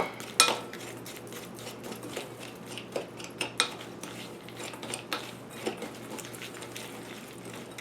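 A spoon or spatula clinks and scrapes around a bowl as pecan cake batter is mixed, irregular knocks and rattles close by at low level, with no speech.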